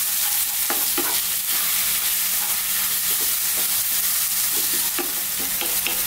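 Onions and prawn masala fry in a pan over medium heat, a continuous close sizzle broken by repeated scraping strokes of a spoon stirring and tossing them, with no one talking.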